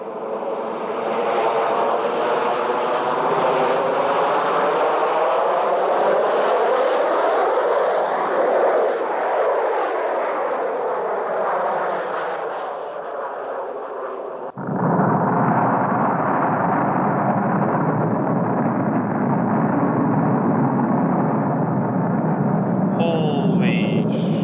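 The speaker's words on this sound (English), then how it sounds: "The RDS-37 Soviet hydrogen bomb test in 1955." Archival recording of the 1955 Soviet RDS-37 hydrogen bomb test: a long, loud, sustained roaring rumble that shifts character midway, continuing as a dense broadband roar.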